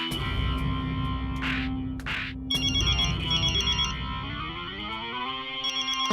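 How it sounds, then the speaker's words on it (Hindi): A phone ringtone rings steadily, a bright repeating electronic melody over a dense musical backing, loud and close throughout. "किसका फोन है?"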